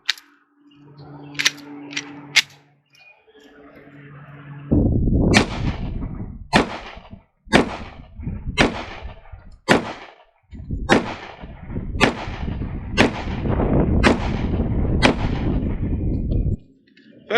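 Repeated loud, sharp shots from an ADE Delta FDE pistol firing .45 ACP 230-grain hollow points at an outdoor range, about a dozen reports in an uneven string after a few quieter clicks.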